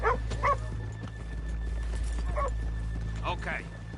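A few sharp, snorting horse calls in the video game Red Dead Redemption 2 pop out over a low steady hum, spaced irregularly, with faint clopping underneath.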